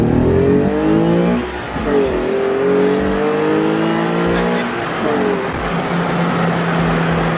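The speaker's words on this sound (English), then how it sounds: "0 to 60 in the NISMO 370z. Let's get it." A Nissan 370Z NISMO launches hard from 0 to 60, its engine revving up through rising gear pulls with short dips at each shift, loud and close, heard from inside the car.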